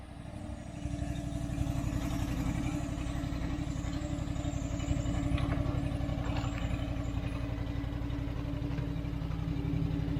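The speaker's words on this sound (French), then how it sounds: "la traction est tellement énorme avec le bicylindre qu'on va essayer maintenant juste au régime de ralenti" A twin-cylinder engine on a French-made mini loader idles while hauling roughly a tonne, giving a steady, low, rhythmic chug with some mechanical clatter, moderately close and without speech.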